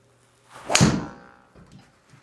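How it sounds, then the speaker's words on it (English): A golf driver strikes the ball off the tee on a home simulator setup, giving one sharp, loud thwack that fades over a short tail, followed by a couple of quieter soft thumps. "I'm going to tee off with my driver."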